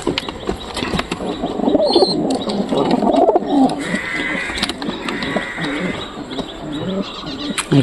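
Pigeons in their coop, one pecking at another, give soft cooing calls mixed with rustling and scattered knocks. The sound is close and fairly loud, and faint voices are heard at times.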